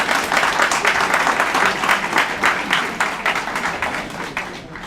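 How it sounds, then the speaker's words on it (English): At a high school dedication ceremony, an audience breaks into dense, enthusiastic applause, loud and continuous before thinning out toward the end. "give Lillian another round of applause"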